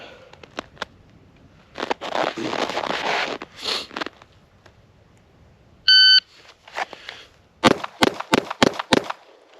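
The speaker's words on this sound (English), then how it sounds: "this is going to be draw and fire 5 rounds in 5 seconds" A handgun drawn and fired five rounds at 7 yards during a pistol qualification drill, opening with a short electronic shot-timer beep and followed by five sharp, loud reports in quick succession, alongside brief shuffling and handling noises.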